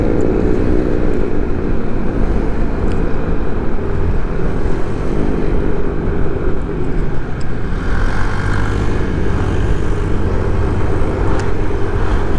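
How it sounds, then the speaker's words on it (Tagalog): Heavy holiday traffic of many motorcycles on a road toward Kaybiang Tunnel, their engines forming a loud, continuous close-up roar with shifting pitch as bikes pass, and no talking. "Dami nagsulputang mga motor"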